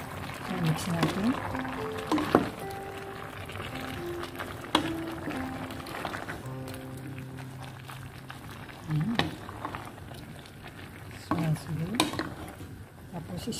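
Vegetables being stirred in coconut sauce in a cooking pan: repeated scraping and clinking strokes of a utensil over a low bubbling simmer, with someone talking between stirs.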